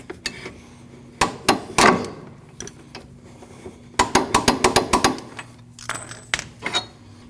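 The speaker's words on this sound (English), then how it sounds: "you want to peen your nut into that cutout" Sharp hammer blows peen a CV axle nut into the axle cutout on a 2003-2008 Subaru Forester, arriving in close, loud bursts of rapid metallic strikes separated by short pauses.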